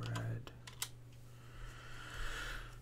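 Fast, hard keyboard typing comes in quick bursts of sharp clicks early on, while a voice talks over a steady low hum.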